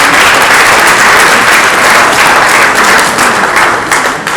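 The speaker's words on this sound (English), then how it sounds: "A round of applause again." An audience at a bank's non-oil export trade seminar breaks into loud, continuous applause, thick and even, tapering slightly toward the end.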